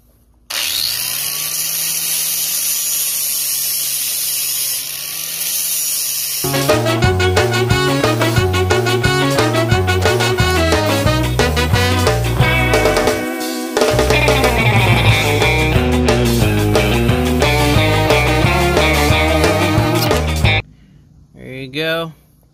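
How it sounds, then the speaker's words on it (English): A power grinder works on a Corvette C5 rear suspension ball joint part, grinding it flat: a loud, close, continuous whine that shifts pitch and load, briefly dropping out mid-clip before stopping near the end. "I'm going to grind it."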